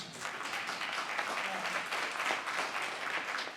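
Attendees at a seniors' tax credit information session applaud themselves, producing a steady wash of many hands clapping that continues throughout.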